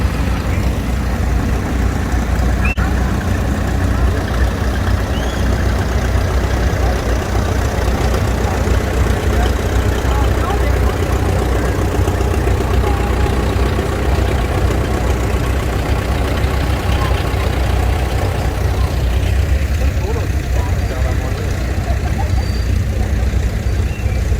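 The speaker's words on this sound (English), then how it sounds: "It's a personnel carrier. That's a nice 1941 Dodge there." A 1941 Dodge personnel carrier's engine runs steadily during a steam threshers parade reunion in Rollag, Minnesota, a continuous loud rumble with outdoor crowd noise around it.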